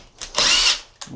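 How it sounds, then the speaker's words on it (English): A power drill pre-drills holes during a sliding shower door installation, with a brief whirring burst, a longer steady high-pitched run, and another short burst at the end, close and loud. "Pre-drill"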